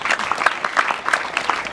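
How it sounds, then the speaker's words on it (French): Brief clapping from an audience at an education launch ceremony, a loose scatter of distinct individual claps rather than a dense roar, fairly close. "Madame, on vous applaudit."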